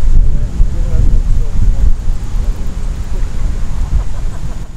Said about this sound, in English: We picked a really windy day.